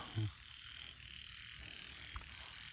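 Frogs croaking at night outdoors, a faint chorus with one nearer croak near the start and another brief one later, over a steady hiss of insects and night ambience, with no talking.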